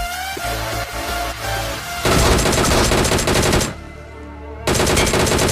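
Rapid automatic gunfire from a powerful weapon in a shooter game, loud and close, rattling in sustained bursts with a brief lull before firing resumes.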